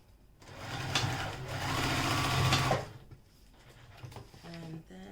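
A sewing machine stitches the top of an exterior fabric panel for a small bag, running in a steady loud burst for about two seconds and then stopping, followed by quieter handling sounds.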